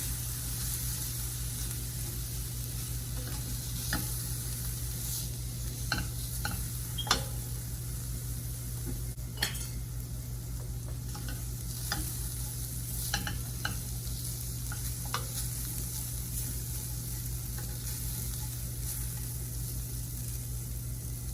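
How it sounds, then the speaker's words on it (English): A peanut and vegetable mixture for Gujarati potato and eggplant shak sizzles steadily in a pan, with a constant frying hiss broken by occasional light scrapes and clicks of stirring throughout. "I'm just gonna stir for a little bit here"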